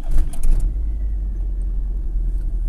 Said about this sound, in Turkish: Şimdi ben start düğmesine bastığım zaman aracı cihaz çalıştıracak.